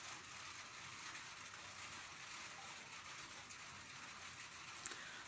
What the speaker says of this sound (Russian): Снова пошел дождичек.